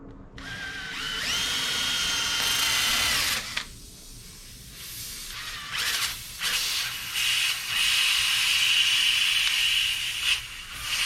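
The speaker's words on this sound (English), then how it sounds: "Drill this out a little bit." A power drill whirs loudly and steadily, drilling out a nail hole in a car tire, stops briefly, then runs again in several bursts with hissing, close and continuous.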